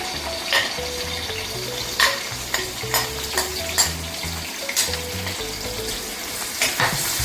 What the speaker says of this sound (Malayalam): സവാള ഇതിനകത്തേക്ക് ഇടുവാണ്.